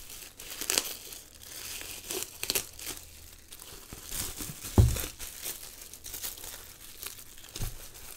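A well-packed book being unwrapped, its crinkly packaging crumpled and torn in bursts of rustling with a few sharper crunches, close and fairly loud, with no talking.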